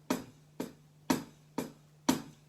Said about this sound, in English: So for instance, if I play the hi-hat,